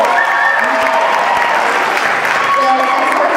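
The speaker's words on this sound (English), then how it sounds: "Let's give her a round of applause." Loud applause from an audience for Kitty, sustained and dense across the whole moment, with a faint crowd murmur and bits of voice underneath.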